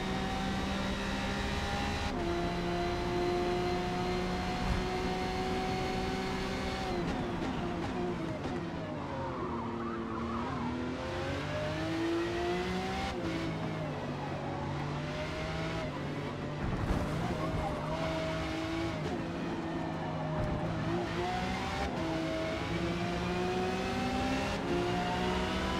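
Lamborghini Essenza race cars in Forza Motorsport at Indy: engines howl close and steady throughout, pitch climbing and dipping through gear changes, with a brief thud partway and no voices.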